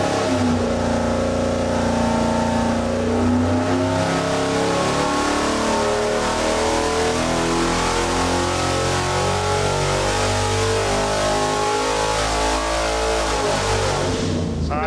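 A 5.3L LS V8 runs under load on an engine dyno, giving out a loud, continuous roar whose pitch sweeps upward as the revs climb. It holds strong to the end, then cuts off sharply.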